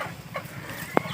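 Darag native chickens on a farm give a faint, brief cluck against low background noise, followed by one sharp, close click.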